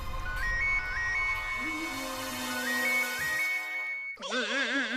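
A phone ringing with a repeating electronic melodic ringtone that plays steadily and loudly for several seconds, then gives way abruptly to a different warbling tone.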